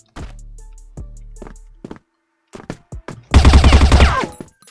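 Gunfire in the CrossFire online shooter: several sharp single shots with echoing tails, then a dense, loud burst of rapid automatic fire near the end, with no talking over it.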